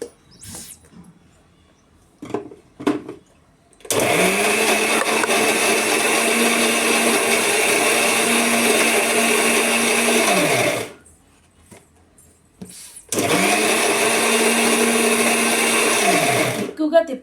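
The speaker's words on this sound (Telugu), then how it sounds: "ఇక మిక్సీ పడుతున్నాను." An electric kitchen mixer grinder whirs loudly in two long bursts, one of about seven seconds and a shorter one after a pause, with jaggery or sugar in the jar and a few light knocks before it starts.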